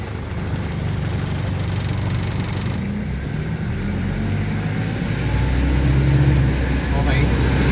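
A car engine idles and revs at around 2,000 RPM as the gears shift, a steady low rumble that swells a little toward the end. A person talks over it at times.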